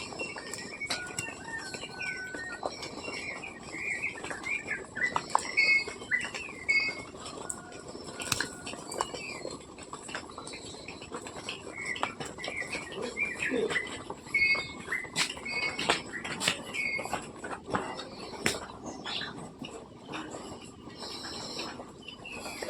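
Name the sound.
birds chirping outdoors in the morning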